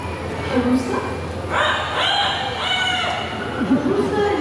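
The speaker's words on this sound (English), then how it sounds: "A rooster in the park?" A rooster crows in a bird park in Singapore, its call rising midway through a busy background of crowd chatter and ambient noise.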